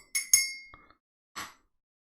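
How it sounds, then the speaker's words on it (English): A glass coffee mug clinks several times, two bright close rings followed by a softer knock and one more clink, with silence between. "That's a loud glass."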